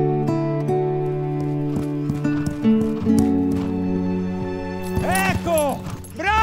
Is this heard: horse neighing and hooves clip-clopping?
yes